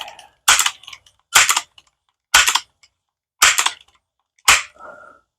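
Five sharp air gun shots fired one at a time at a small chalk target, each a crisp, loud crack with a brief impact snap, spaced about a second apart.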